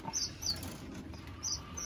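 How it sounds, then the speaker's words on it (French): A small bird gives several short, high chirps in quick pairs, clear but soft against a quiet background. "Donc un joli oiseau."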